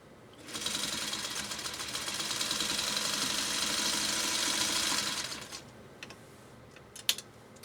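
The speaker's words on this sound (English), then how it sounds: "you can really listen to this machine run. It just runs silky smooth." A 1952 Singer 301 sewing machine runs steadily for about five seconds with a smooth, even whir and fine rapid stitching rhythm, then winds down to quiet with a sharp click near the end.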